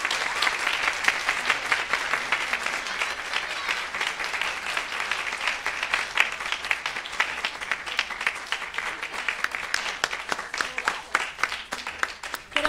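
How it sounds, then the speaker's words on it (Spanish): Sustained applause from an audience at a university humanities week event, dense steady clapping continuing throughout with scattered louder claps and a faint voice underneath. "para quien pedimos un aplauso"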